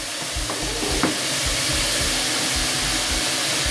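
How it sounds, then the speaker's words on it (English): Curry frying in a pot gives a steady, loud sizzle and hiss with faint stirring scrapes, continuous and close throughout. "Let's just watch curry fry."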